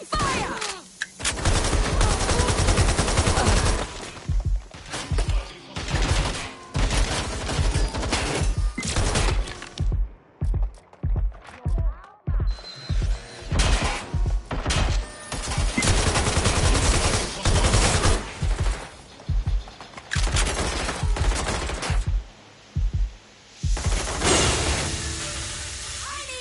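Heavy gunfire in Watch Dogs: Legion, loud, near and sustained, with rapid automatic bursts and single shots, a brief lull around the middle, then more firing to the end.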